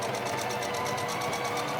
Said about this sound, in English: And now I make the zigzag stitch.